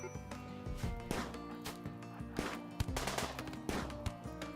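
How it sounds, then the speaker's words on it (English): Rapid gunfire aimed at a cougar in a colony survival game, sharp irregular shots and bursts popping loudly over busy game sounds, with a voice briefly audible. "They're shooting at the cougar"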